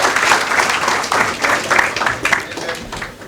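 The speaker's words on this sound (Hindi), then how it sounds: "तालियां तालियां तालियां गाइस" Students applauding at a farewell event for a sociology batch, a loud, close round of clapping in uneven surges, with voices mixed in beneath.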